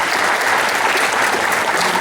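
Sustained applause from an audience at an official presentation event, dense steady clapping throughout at a strong level, with a faint voice or two underneath.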